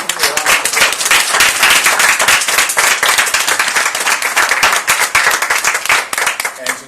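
Round of applause from an audience at a Nigerian contemporary art event, loud close clapping with distinct individual claps in a steady rapid patter, tapering at the end.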